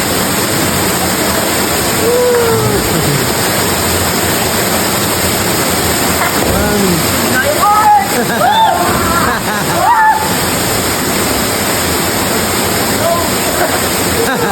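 A waterfall roars as a steady, loud broadband rush of falling water filling the whole clip, with people talking faintly over it in the middle.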